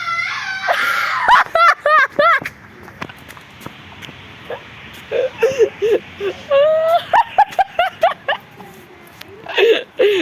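A person lets out repeated short, high-pitched yelps and screams, some rising and wavering, interspersed with shuffling noises and brief pauses.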